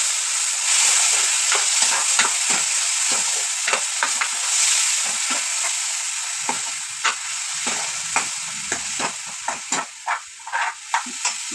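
Ground masala paste frying in a pan for mushroom masala gravy, a loud hissing sizzle under repeated scraping stirs that grow more rhythmic and clipped toward the end, close up and without speech.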